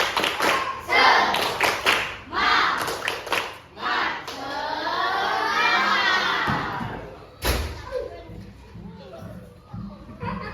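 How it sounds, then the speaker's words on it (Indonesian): Children in a classroom doing a rhythmic spirit clap during a practice teaching lesson, bursts of patterned clapping mixed with shouted chanting voices, followed by a longer cheer-like shout and quieter talk. "Tepuk semangat."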